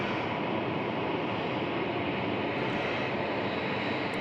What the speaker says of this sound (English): Virgin Australia now, the Velocity 737-800 taxiing down on Charlie